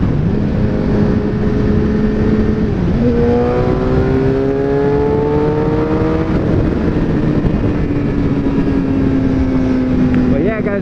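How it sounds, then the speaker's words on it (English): A 2013 Suzuki GSX-R 750 sportbike drops to fourth gear and accelerates, its inline-four engine rising in pitch in long sweeps, loud and continuous, with a gear change partway through. "I'll downshift to 4th just so you guys see how much harder it pulls."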